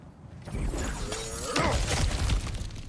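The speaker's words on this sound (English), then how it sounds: "back to smashing through things for fun and profit" Objects shatter and smash in the video game God of War Ragnarok, with a loud crunching break of crashing debris and a few clattering pieces.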